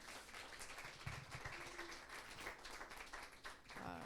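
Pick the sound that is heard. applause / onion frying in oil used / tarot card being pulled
applause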